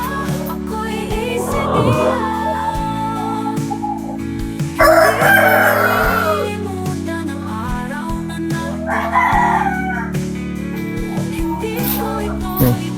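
Organic farm roosters crow repeatedly, loud and near, several long cock-a-doodle-doos rising over clucking and a busy farmyard background.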